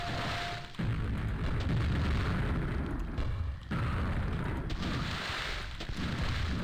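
Rocket explosions in a video game set in swamp caves: a loud booming blast, then a second heavy burst a few seconds later, each trailing into a dense, sustained rumble.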